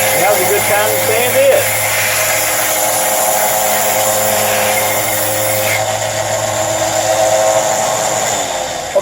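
Continuous whirring machine noise of a power sander working the bottom of a wooden sled, loud and steady for the whole stretch, with a brief shift in tone near the start and a slight drop near the end.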